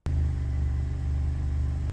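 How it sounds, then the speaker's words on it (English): A car engine, just treated with an oil additive, starts abruptly and then runs at a steady, loud idle, a low continuous rumble with no talking. "next, we're going to start it up and let the engine run for a few minutes."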